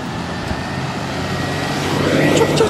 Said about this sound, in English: Oh, there's a truck coming.